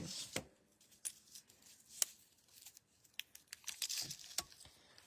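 Paper for a handmade greeting card is cut by hand, with quiet close snips, crinkles and rustles arriving in uneven bursts, nobody speaking.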